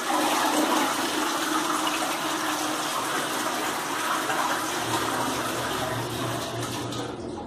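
A shared toilet flushes with a loud, steady rush of water that fills the whole moment, then gives way to a lower refilling hiss near the end, close up and without talk.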